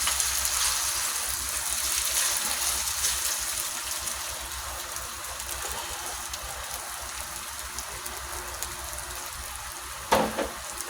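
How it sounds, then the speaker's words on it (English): Hashed browns frying in hot oil in a pan give off a steady, close broadband sizzle that holds for the whole stretch, with a brief louder crackle near the end. "I hear that sizzle. You want to have good, hot oil."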